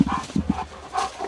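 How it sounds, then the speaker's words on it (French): A dog barks in a few quick, close bursts, followed by softer yelping or whining calls, with no one speaking. "Chien."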